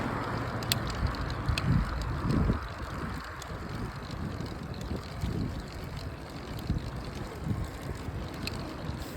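Bicycle ride noise on the way into Bracknell: steady rolling rumble and wind buffeting the microphone, with periodic low thumps and faint high ticking throughout.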